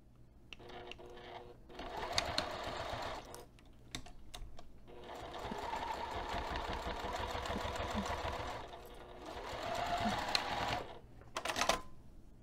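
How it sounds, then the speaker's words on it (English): A sewing machine runs in several bursts of rapid mechanical stitching, pausing briefly between runs, close and steady with no talking. "we're going to take this over to the sewing machine, and we're going to sew this top pinned edge"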